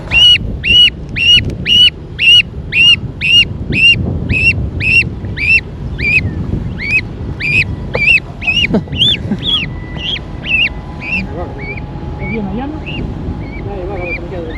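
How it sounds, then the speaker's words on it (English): A goose by an urban riverside honks over and over in a steady, rapid series. The calls are loud and close at first, then grow more ragged, with outdoor background noise beneath them. "he had a goose that was stuck in something"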